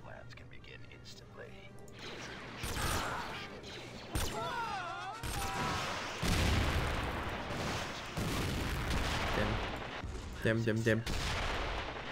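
Gunfire in the video game Rise of the Mandalorians, bursts of shots and heavy booms rolling through a continuous battle din, with someone talking over it.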